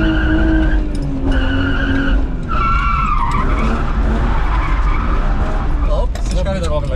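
Car drifting with tires skidding and squealing loudly through a long slide, engine revving underneath, with people talking over the sustained screech.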